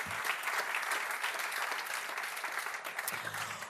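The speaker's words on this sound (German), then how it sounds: "Gerne Applaus." An audience at an awards event applauds steadily, a dense and even crowd clapping that continues for several seconds without voices.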